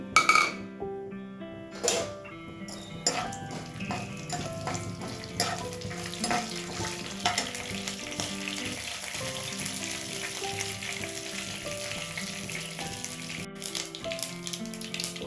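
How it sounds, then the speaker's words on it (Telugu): Tempering spices sizzle in hot oil in a pan for chana masala curry, a dense continuous frying crackle with occasional stirring clatter and a few sharp pops near the start. "ఈ ఆయిల్లో పోపు సామాన్లు అన్నీ వేసుకుంటున్నాం"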